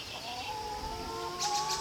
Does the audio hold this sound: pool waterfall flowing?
no